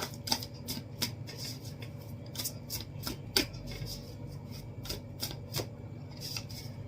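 Tarot cards being shuffled by hand, close and soft, with a continuous riffling rustle broken by sharp, irregular card snaps and taps. No speech.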